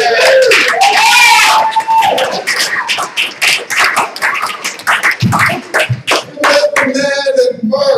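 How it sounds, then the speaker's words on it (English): Loud, sustained audience applause with cheering fills a comedy club, building then thinning into scattered claps and voices as the next comic takes the stage and starts talking. "a big round of applause for a friend for many years"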